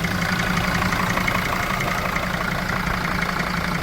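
A van engine idles close by at an outdoor used-car market in Lutsk, Ukraine, a continuous low rumble with a faint even knocking texture and no other sounds.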